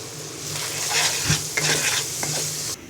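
Spice paste with turmeric, chili powder and salt frying in a pan for a hotel-style vegetable dal, a close, steady sizzle broken by a few spoon scrapes and clinks against the pan, no talking.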